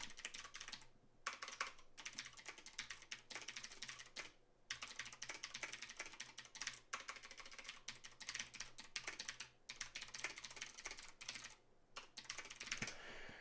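Someone types steadily on a computer keyboard, producing dense, close, rapid key clicks in long runs broken by a few short pauses, with no talking.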